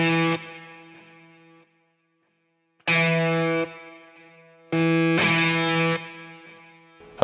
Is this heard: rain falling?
no